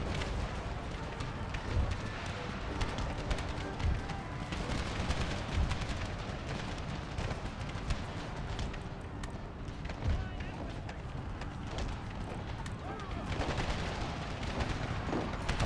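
Artillery booms and musket fire roll continuously through a battle in the video game Empire: Total War with the Brothers vs. Brothers mod, a dense, rumbling din of many overlapping shots.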